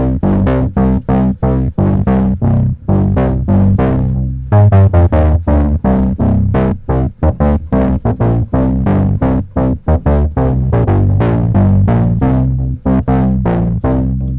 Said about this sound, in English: Italo bass, there we go, that'll be better.